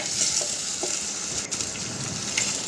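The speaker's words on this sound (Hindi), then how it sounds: "अब ये हमारे लहसुन अदरक भी फ्राई हो चुके हैं, तो अब हम इसमें मीट डाल देंगे।" Mutton sizzles and fries steadily in hot oil with garlic and ginger, a dense, continuous crackling hiss with a brief stir partway through, no voices.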